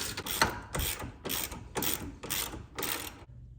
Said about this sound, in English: So again, we're just tightening everything down.